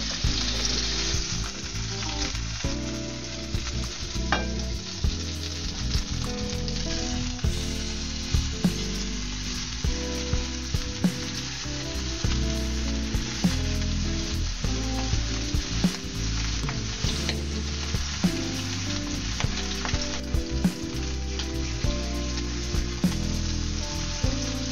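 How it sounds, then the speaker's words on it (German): Pork pieces sear very hot in butter in a pan, giving a steady, loud, crackling sizzle with scattered pops and occasional stirring clinks, continuous throughout with no talking. "Zum Abschluss werden die Fleischstücke nochmals kurz sehr heiß gebraten, um durch das Karamellisieren Brataroma zu erhalten."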